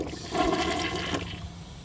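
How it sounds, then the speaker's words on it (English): A 2000 comfort height Mansfield Alto toilet flushes close by with a loud rushing surge of water that quickly tapers into a quieter draining swirl. "let's give this a flush"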